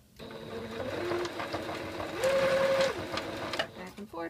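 Sewing machine running steadily while stitching elastic into a cloth swim diaper, a close, continuous motor whir with a brief faster burst midway, under a speaking voice.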